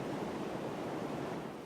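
Sea waves washing in a steady, soft broadband surge, a short continuous stretch of ocean surf with no voices.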